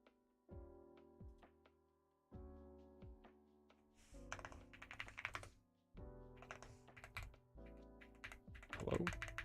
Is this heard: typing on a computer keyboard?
yes